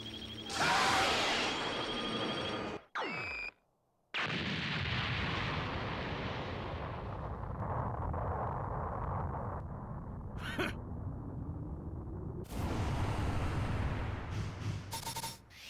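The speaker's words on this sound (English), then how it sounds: "Have a taste of Super Vegeta's Big Bang Attack!" Super Vegeta's Big Bang Attack from Dragon Ball Z Kakarot: a loud energy blast with a rising whoosh, then a long rumbling explosion that fades, followed by more bursts of impact noise.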